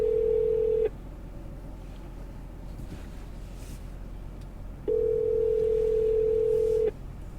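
Telephone call ringing on speakerphone in a police car, two long steady ring tones separated by a pause of about four seconds, clear over a constant low engine hum.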